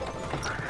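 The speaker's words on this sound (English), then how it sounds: "The horse." Horse hooves clip-clopping in a steady, dense patter, moderately close and alone, with no talk.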